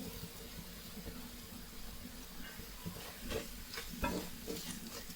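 Crab masala sautéing with turmeric and chili powder in a pan: a steady low sizzle and hiss with a few soft stirring scrapes, faint and continuous with no one talking.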